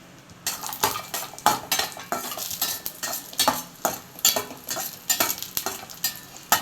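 Cashews and raisins roast in a pan for wheat flour halwa, with a spoon stirring and scraping steadily against the metal, giving repeated clinking strokes over a soft frying sizzle, close up and with no talking.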